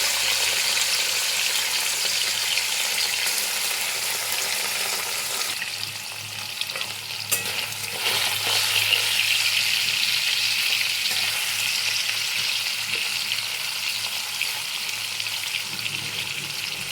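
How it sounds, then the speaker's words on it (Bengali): Paneer pieces frying in salted oil until lightly browned, a continuous close hissing sizzle that dips briefly then resumes, with occasional stirring sounds and no talking. "পনিরগুলো হালকা ব্রাউন কালার আসা পর্যন্ত আমি ভাজবো।"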